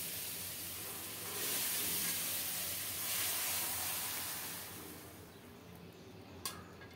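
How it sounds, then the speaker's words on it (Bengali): Curry of matar dal with vegetable stalks poured into hot oil tempered with five-spice: a loud, steady hiss and sizzle that swells, holds, then eases off, close and alone. "এখন তরকারিটা ঢেলে দেব"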